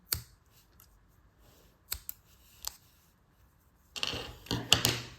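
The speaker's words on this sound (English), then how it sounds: "And then we can cut the excess yarn." Scissors snipping excess yarn from small crocheted earrings, a few crisp close metallic cuts spaced apart, then a flurry of quick clicks and snips at the end.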